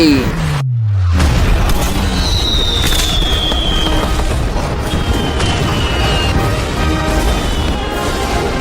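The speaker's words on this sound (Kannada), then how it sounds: "5 4 3 2 1 ಮನೆ ಬ್ಲಾಸ್ಟ್ ಆಗಲಿದೆ" A house blowing up with a loud blast that drops sharply after about a second, followed by a sustained roar of crackling debris and burning for several seconds.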